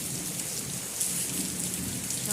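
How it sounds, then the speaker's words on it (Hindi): Heavy rain pours steadily on a village house, a dense unbroken hiss of drops on surfaces, with no voices. "बहुत बारिश हो रही है"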